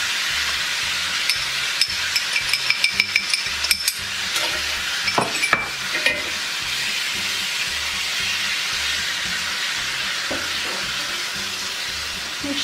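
Meat browning in a hot pan, a steady close sizzle and frying hiss with a few clinks and scrapes of stirring early on, continuing alone.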